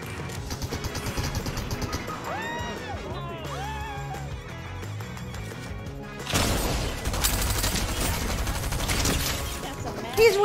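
Rapid gunfire bursts and explosions in a battle-royale style shooter game, dense and loud, erupting mid-way under excited talk from players, with game music and effects earlier.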